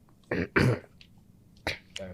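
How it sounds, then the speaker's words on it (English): Someone clears their throat a few times in short, harsh bursts, with small gaps between them. "gotta clear my throat."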